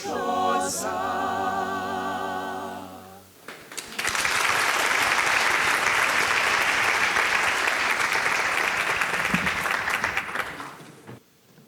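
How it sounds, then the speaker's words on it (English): An audience applauds the UJ Choir at a university research appreciation event, a loud sustained burst of clapping that swells after singing fades and then tapers off. "One more round of applause as they go off."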